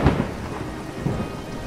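Heavy rain pours steadily while a deep thunder rumble booms at the very start, then the downpour hisses on alone.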